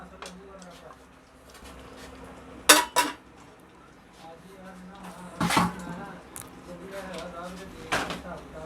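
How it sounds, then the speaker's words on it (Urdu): A spoon scrapes and clinks against a metal pot while chana mash dal with chicken powder is stirred, producing a couple of sharp knocks and softer scraping sounds amid faint kitchen noise. "اب ہم اس میں ڈال دیں گے چکن پاؤڈر، ہلا لیں گے اس کو اچھی طرح"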